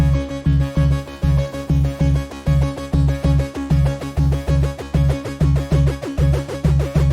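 A punchy FM synthesizer bass line pulses in a steady repeating rhythm, loud and upfront, with bright metallic overtones on each note.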